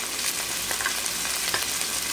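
Beef hits hot oil with golden-browned garlic and onion, giving a steady, close frying sizzle with light crackle throughout and no voices.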